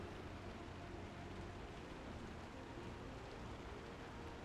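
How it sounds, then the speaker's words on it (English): Acid rain falls steadily in the Star Citizen video game, a dense, even hiss of rain with a low rumble underneath that holds unbroken at a faint level. "It's raining out here. Well, I'm sorry, it's acid raining out here."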